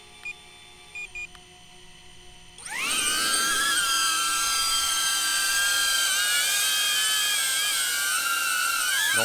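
A DJI Avata drone spins up and flies, its high, whining propeller buzz starting abruptly after a few quiet seconds with faint beeps, then holding steady and loud with shifting pitch as it maneuvers.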